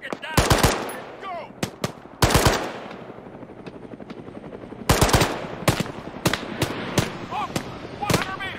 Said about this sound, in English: Machine gun, 55 meters front. Machine gun, 100 meters front.